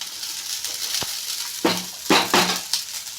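Cooked rice is stirred into a sizzling coriander mixture in a pan with a little salt, giving a soft steady frying hiss broken by several scraping, clattering stirs near the end.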